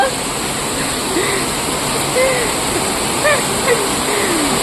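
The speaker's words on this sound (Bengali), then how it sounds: "আর দেখো প্রচন্ড পরিমাণে বৃষ্টি হচ্ছে একদম" Heavy monsoon rain pours steadily onto a water-filled rooftop, a dense, loud, unbroken hiss from start to finish, with faint voices now and then beneath it.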